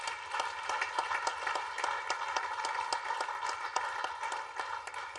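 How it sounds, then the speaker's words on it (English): Participants at the National Institute applaud after a lecture, a sustained round of dense crowd clapping with some sharper individual claps, steady and fairly distant in a large hall. "I think His Excellency deserves another round of applause"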